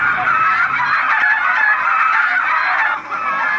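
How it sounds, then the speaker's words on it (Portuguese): Game poultry from Minecraft Story Mode squawk and cluck in a dense, continuous flock chorus, loud and close for the whole stretch with no talk over it. "Nossa, é cheio de galinha"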